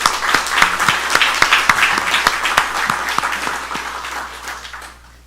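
A church congregation applauds in a dense, steady burst of many hands clapping that fills the room, then gradually fades out toward the end.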